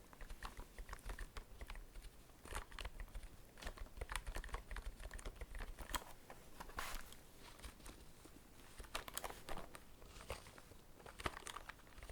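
Rapid, uneven clattering of keys on a cheap, plasticky €10 computer keyboard, continuous typing close by with no voices.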